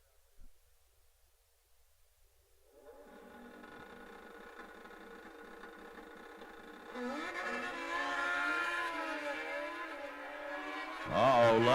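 Drag race cars at a WDRA Summit Racing Equipment World Championship event idle low, then launch into a loud, rising engine roar heard from a distance, with a sharp surge near the end and no clear talk over it.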